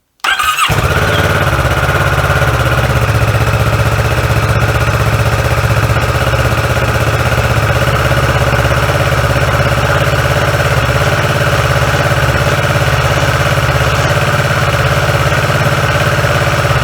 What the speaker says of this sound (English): I'm going to fire the bike up